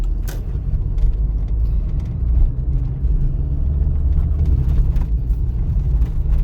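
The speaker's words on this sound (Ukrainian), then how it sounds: "Зараз я їду на третій передачі." Inside a car in third gear on a driving test, a steady low engine and road rumble fills the cabin throughout, with light rattles and no talking.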